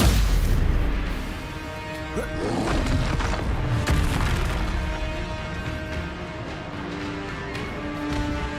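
Spell casting in the Hogwarts Legacy game, a Stupefy stun spell, heard as a dense stretch of booming, crashing magical impacts and bursts layered over a continuous game soundtrack, fairly loud throughout.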